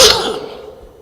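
A single sharp sneeze from someone on a gala panel, loud and close, tailing off quickly into quiet room tone.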